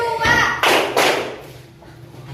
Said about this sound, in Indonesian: tepuk 1, tepuk 2, tepuk 4, tepuk 5, tepuk tangan.